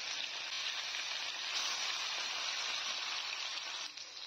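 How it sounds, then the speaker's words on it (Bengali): Pieces of katla fish, rubbed with turmeric and salt, fry in hot mustard oil in a kadai, a constant bright sizzle close by that holds steady and then dips slightly near the end, with no speech. "তেল গরম হওয়ার পরে মাছগুলো দিয়ে মাছগুলো ভেজে নিচ্ছি।"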